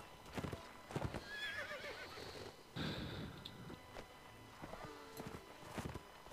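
A horse in the medieval combat game Mount and Blade Warband clip-clops and whinnies amid battle noise, with hoofbeats repeating in bursts and a clear neigh near the start, all fairly close.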